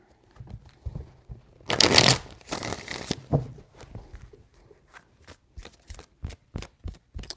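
Tarot cards being shuffled, a dense papery riffle burst in the middle followed by a run of sharp separate card snaps and taps, close and fairly loud with no talking.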